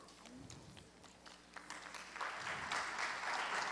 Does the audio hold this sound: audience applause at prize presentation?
yes